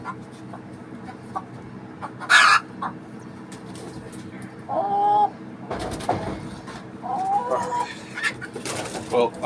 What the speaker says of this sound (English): Let the chickens in here settle a bit, get their heart rates down